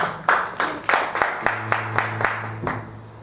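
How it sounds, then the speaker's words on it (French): A church congregation claps in a loose, steady rhythm of sharp, fairly close hand claps over a low, sustained background tone. "Est-ce qu'on peut acclamer pour le Seigneur?"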